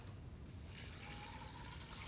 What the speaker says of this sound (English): We're going to add a gallon of water